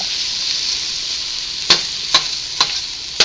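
Food being stirred in a hot frying pan for minestrone soup, a steady close sizzle with four sharp scraping strokes of the utensil against the pan.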